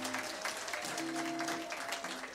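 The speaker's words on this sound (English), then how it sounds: "A round of applause" An audience at a human rights event applauds a speaker, a steady, fairly close wash of clapping with some tonal hum underneath.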